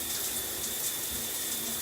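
Water runs steadily from a home shower, a constant broadband hiss and splash heard close up and fairly loud, unbroken and with no talking.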